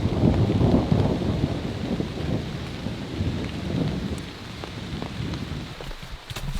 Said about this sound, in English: the rain was letting up a bit, but it was still thundering